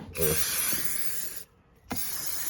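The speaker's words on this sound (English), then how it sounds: "I use a bit of silicone lubricant. Spray over everything," Two bursts of silicone lubricant spray hissing from an aerosol can, a long one followed by a brief pause and a second spray starting.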